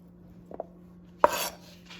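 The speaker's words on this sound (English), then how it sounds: "We'll take a slice, cut that horizontally, and then vertically." A knife slices through a potato on a cutting board: a couple of faint taps, then one sharp chop with a brief scraping tail, close and alone in a quiet kitchen.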